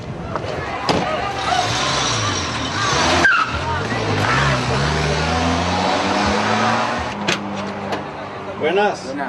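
A stolen car's engine revs and pulls away over busy, noisy street sound, with voices talking throughout.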